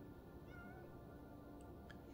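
A cat in the Minecraft Wintercraft world gives a couple of faint, short meows over a steady in-game ambient hum.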